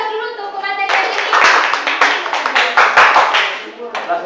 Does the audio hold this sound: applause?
yes